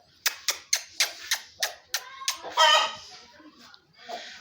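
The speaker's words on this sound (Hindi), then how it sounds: "मुर्गी पकड़नी पड़ेगी, मुर्गी" A hen gives a rapid run of sharp, rhythmic clucks, about nine in a row, then a louder squawking call and softer clucks nearby.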